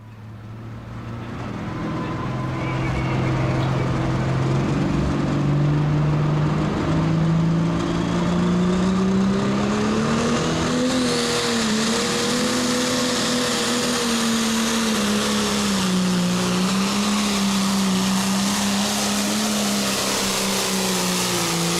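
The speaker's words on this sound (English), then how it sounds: "his high maintenance John Deere 6030 out here in the limited pro stock class" A high-maintenance John Deere 6030 pulling tractor with nearly 3,000 horsepower, running in the limited pro stock class at the Sauk County Fairgrounds pull, howls loudly and continuously, its engine pitch rising and wavering as it powers down the track.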